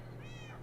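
A single short cat meow from Minecraft, faint and brief, sounding alone without talk over it.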